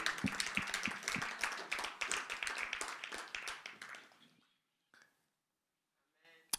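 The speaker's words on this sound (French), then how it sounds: "vous méritez mes acclamations" A church congregation claps during a sermon, a brisk burst of distinct hand claps with some murmuring voices that fades out after about four seconds, followed by near silence and a couple of faint stray sounds.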